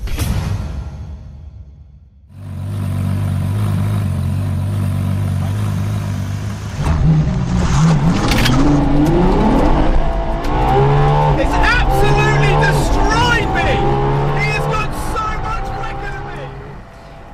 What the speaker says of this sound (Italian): Let me get this car into first gear. Let's put launch control.